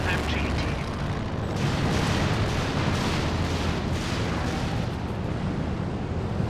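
A Stuka dive-bomber barrage in the World War II strategy game Company of Heroes 2 fills the air with continuous heavy explosions and rumbling blasts, dense and loud, with no clear gap between the impacts.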